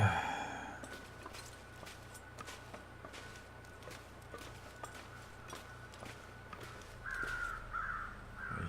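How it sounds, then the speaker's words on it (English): Crows caw a few times in the distance in the video game The Long Dark, over a steady low rumble and soft footsteps, with a louder burst of calls near the end. "hear crows. Where are you circling?"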